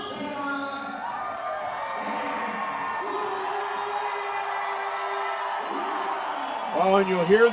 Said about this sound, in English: Oh, and you'll hear the ovation for Sam.